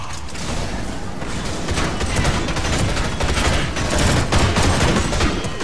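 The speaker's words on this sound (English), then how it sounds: "Oh, a Geth pulse rifle." Dense, continuous energy-weapon fire from a Geth pulse rifle in a Mass Effect mod of Star Wars Battlefront 2, a loud, sustained rattling barrage mixed with battlefield noise.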